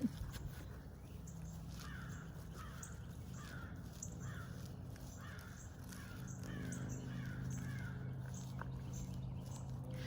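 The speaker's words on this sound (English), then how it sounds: "Sorry for the bird you hear in the background." Crows caw repeatedly in the distance, a regular series of harsh calls over quiet outdoor background noise.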